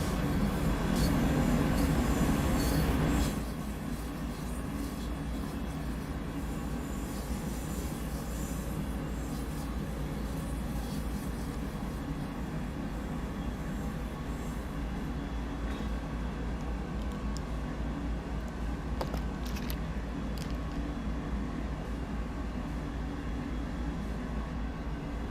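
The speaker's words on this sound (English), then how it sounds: "We just need to pull all of our train past that loop," A long freight train rolls steadily along the rails in Train Sim World, a continuous rumbling drone with occasional faint clanks and squeals from the wheels.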